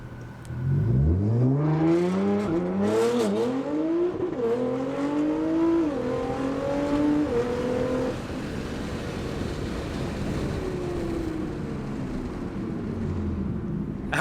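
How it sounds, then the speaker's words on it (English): Tuned Nissan GTR on launch control with anti-lag, its engine revving hard and climbing through rising, stepped pitch sweeps, loud and close, then settling to a steadier drone. "So right here we're going to get some launch control action going on in the GTR"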